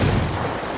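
A grenade blast in the video game Ghost Recon: a single deep, heavy boom with a rumbling low end, loud and close, fading over under a second.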